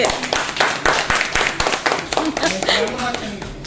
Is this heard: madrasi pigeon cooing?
no